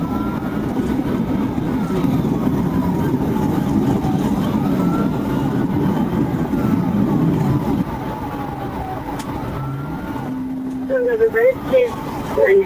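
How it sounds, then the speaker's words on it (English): A siren wails steadily in the background beneath loud engine and road noise, with some radio-like chatter near the end. "Trooper Sciarra then activated his siren and began the pursuit"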